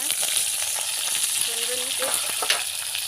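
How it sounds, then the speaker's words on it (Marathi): Chopped onion fries in a pan for dal bhaji cooked over a wood-fired chulha, with a loud, steady sizzle and scattered clinks and scrapes from stirring. "आता त्यामध्ये कांदा टाकायचा"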